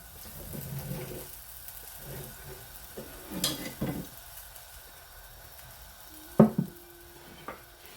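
Makki roti cooking on a pan with desi ghee, giving a faint, low sizzle with soft scraping and stirring sounds, then a sharper clatter and a brief tone near the end.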